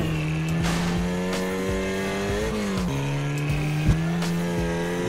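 A Ferrari in modded GTA drives with a steady high engine drone that shifts pitch as it changes gear, with short tire-squeal bursts and one sharp knock, loud and near, no speech.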